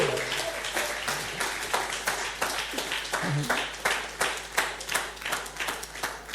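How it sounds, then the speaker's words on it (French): A church congregation claps steadily in a dense, irregular patter of applause, moderately quiet and sustained for several seconds with no voice rising above it. "Si tu veux acclamer, acclame."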